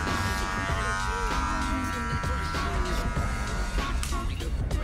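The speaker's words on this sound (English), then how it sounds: "The tool that I'm specifically using right now is a cordless magic clip." Cordless Magic Clip hair clipper with a stagger-tooth blade buzzing steadily while cutting hair for a fade, its hum continuous beneath a voice talking over it.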